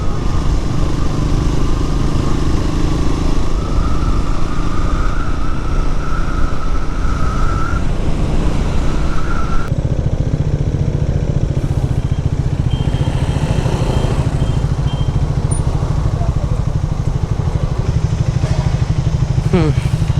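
A motorcycle ride approaching a toll on the way to Bannerghatta Zoo in Bangalore, with steady loud engine drone and wind rush, the engine pitch rising gradually before dropping.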